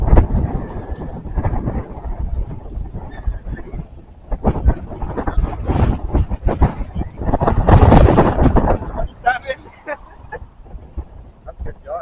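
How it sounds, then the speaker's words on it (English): Strong gusts of wind from an approaching squall line coming off the water roar and buffet the microphone in surging waves, loudest near the middle, with people talking over it. "That's a good gust."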